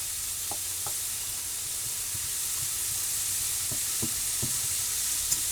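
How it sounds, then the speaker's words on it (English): Five hot dogs browning in a pan for a chili mac pantry meal give a steady, close sizzle with scattered small pops and crackles throughout, and no voices. "brown up your wieners and you're good to go"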